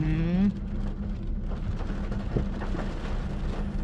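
Steady rain falling outside, heard as a continuous dense hiss close by, with no voices over it.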